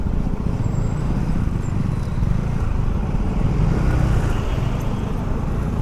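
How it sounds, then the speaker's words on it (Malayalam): Heavy road traffic on a bridge, cars and lorries rumbling past in a loud, continuous low roar that stays steady throughout. "ഈ പാലത്തിലുള്ളതാണ് ഫുൾ വണ്ടികൾ എപ്പോഴും ഏതെങ്കിലുമൊക്കെ ലോറി ആയിരിക്കും"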